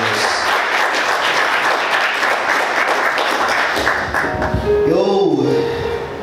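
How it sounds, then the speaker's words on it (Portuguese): A church congregation applauds loudly and steadily in a dense, sustained wash of clapping, with a voice rising briefly over it near the end. "Quantos podem aplaudir Jesus bem forte?"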